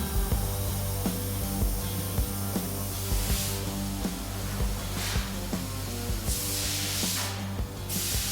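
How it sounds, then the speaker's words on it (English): Welding hisses and crackles along the deck lid seam of a 1968 Ford Mustang fastback body, in repeated bursts over a steady humming drone, loud and close. "And now I'm welding everything back together"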